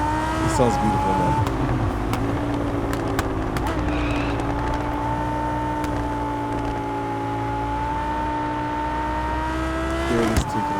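Race car engine in Test Drive Unlimited Solar Crown revving up and accelerating away after a toll gate, a loud sustained rising whine with brief tire noise and clicks, close and continuous.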